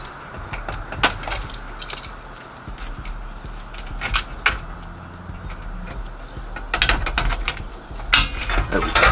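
A clamp is tightened on an ABS plastic upper door panel for a Cutlass, giving a run of close ratcheting clicks, taps and creaks in irregular bursts over low background noise.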